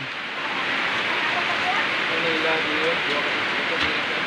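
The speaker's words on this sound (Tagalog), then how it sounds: "Guys, Umulan." Rain falling in a rural countryside setting during a family's All Saints' visit makes a steady, moderately loud broadband hiss that runs unbroken through the whole clip.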